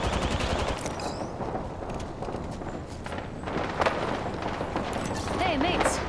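Gunfire in the video game Apex Legends: rapid bursts of shots rattling on throughout, mixed with other game sounds and a brief voice.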